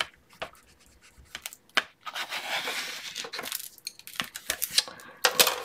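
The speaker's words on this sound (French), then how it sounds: "Prendre mon grand couteau. Virer toute la colle." A large knife scraping excess glue from the corners of a paper craft album, heard as bursts of dry scratching and rasping with sharp taps between strokes, close and fairly loud.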